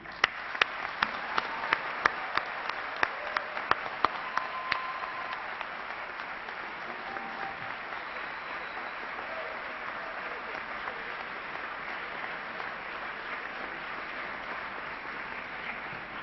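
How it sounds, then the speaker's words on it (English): Graduates and guests at a university commencement ceremony applaud in a large hall, a few crisp individual claps ringing out early before the sound settles into a steady, distant wash of crowd clapping that carries on for a long stretch. "I think you should give yourself, your family members, friends, and teachers who supported you a great big round of applause"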